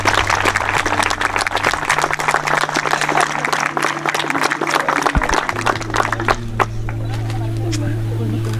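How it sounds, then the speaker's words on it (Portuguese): A crowd applauds steadily for several seconds, the clapping fading out toward the end as background voices murmur. "Uma salva de palmas para esses pais."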